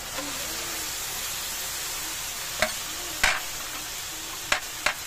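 Vegetables stir-fried in a pan for Filipino lumpia with bean sprouts and corned beef give a steady, moderate hiss of sizzling, broken by a few sharp clacks of a utensil against the pan.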